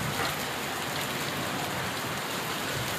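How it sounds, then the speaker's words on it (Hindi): Heavy rain with hail pours down in a dense, steady roar, with no breaks and no voices. "बारिश भी हो रही है और ओलावृष्टि जो है वो लगातार इस समय भी चल रही है"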